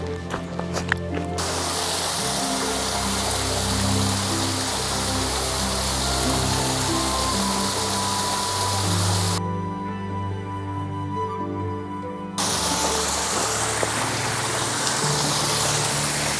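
A small waterfall on Heathcote Creek pours in a steady, close rushing wash of water that carries on throughout, with one brief cut partway through.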